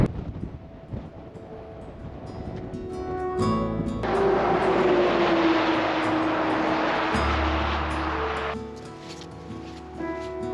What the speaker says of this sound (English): when the wind changes you can hear the traffic.